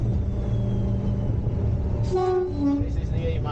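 Preserved diesel locomotive 50015 Valiant working under power, a steady low engine drone with a sustained horn-like tone rising in the last second or so.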